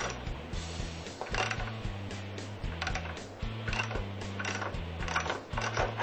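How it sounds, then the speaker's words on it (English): A hand ratchet loosens a motorcycle rear axle bolt, giving quick, steady bursts of clicking pawl strokes up close at low level, with no talk. "a ratchet or a wrench or some way to get your rear axle bolt loose, not off, just loose"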